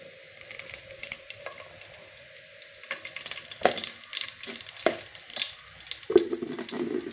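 Grated coconut fries in a spoonful of oil in a pan, making a quiet, close sizzle with intermittent scraping stirs and no talking.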